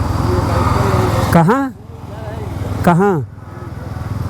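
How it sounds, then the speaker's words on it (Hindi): A Bajaj Pulsar N250 V2 motorcycle ridden through Delhi traffic near India Gate, its engine droning steadily at close range with wind noise, while someone talks over it. "यहाँ पर मैं इस बाइक को चला रहा हूँ"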